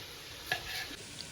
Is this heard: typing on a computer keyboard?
no